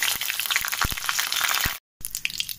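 Whole cumin seeds and bay leaves frying in hot mustard oil in a kadai give a steady, close sizzle with sharp crackles and pops, cutting off briefly near the end.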